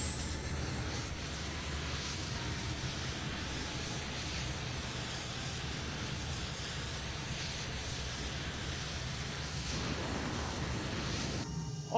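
An F-22 Raptor jet engine starts up in Microsoft Flight Simulator: a high, rising turbine whine settles into a steady shrill tone over a loud, continuous engine roar.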